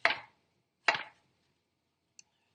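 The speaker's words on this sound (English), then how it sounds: "Just chopping it about because I'm going to throw it in with my veggies." A knife chops through food on a cutting board while making verde tacos, giving two distinct, close thuds about a second apart, then a tiny faint click, all against silence.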